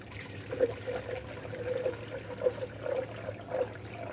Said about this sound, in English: Now we're adding the manufacturer's specified coolant.